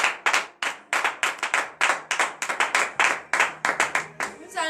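A church congregation at morning prayer in Benin claps in sharp, irregular bursts, many hands striking close and loud, with voices mixed in among the claps.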